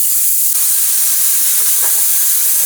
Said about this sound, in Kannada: ಟೋಟಲ್ ಆಗಿ ಈಗ 5ನೇ ವಿಷಲ್ ಹೊಡಿತಿದೆ.